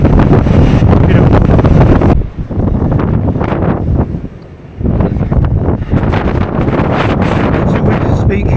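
Heavy wind buffets the microphone in loud, roaring gusts on Dalsnibba mountain above Geirangerfjord, Norway. It eases briefly partway through, then surges back.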